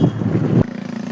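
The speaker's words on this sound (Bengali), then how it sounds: "এই রে এক হাতে স্কুটি চালাচ্ছি" Scooter being ridden one-handed outdoors on a field, with a steady low engine drone and wind rumble, then an abrupt drop to a lighter, thinner hum.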